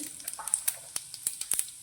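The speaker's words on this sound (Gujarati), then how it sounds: "રાઈ ફૂટે તે સાથે આપણે જીરું 1 નાની ચમચી જેટલું એડ કરી દઈશું" Mustard seeds and cumin sizzling in hot oil, with scattered sharp pops and crackles over a soft hiss, irregular and close.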